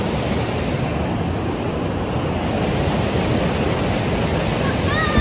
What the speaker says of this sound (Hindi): पानी का भी शोर बहुत ज़्यादा है,